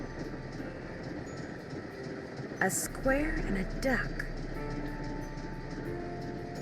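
A moving train in the Nancy Drew game Last Train to Blue Moon Canyon rumbles steadily throughout, a low continuous ride noise with a brief louder clatter near the middle, while a voice speaks briefly over it.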